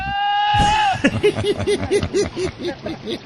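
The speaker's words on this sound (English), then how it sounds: "lead with goat that yells like a man" A goat lets out a long human-like scream, followed by a rapid series of rhythmic bleats, loud and close.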